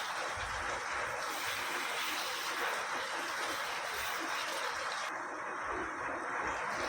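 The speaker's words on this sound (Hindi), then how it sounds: "अभी इसमें ये चिकन डालेंगे और चिकन को इसके अंदर अच्छे से भूनेंगे" Pieces of chicken fry in a pan with sautéed ginger and garlic for a dhaba-style chicken dish, giving a steady, close, broadband sizzling hiss throughout.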